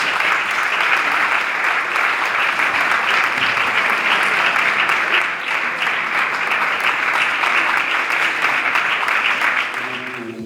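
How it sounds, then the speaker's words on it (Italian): Dense, sustained applause from a theatre audience for the superintendent during the Sant'Agata Candelora celebration, a steady loud wash of many hands clapping that eases off slightly near the end. "È davvero un applauso meritato per il sovrintendente"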